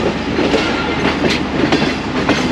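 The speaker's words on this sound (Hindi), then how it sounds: "ट्रैक चेंजिंग की खूबसूरत आवाज़ें," Near and loud, freight coaches shunted in the Lahore Junction railway yard rattle across track switches, giving a dense rolling rumble broken by quick metallic clacks, with no speech.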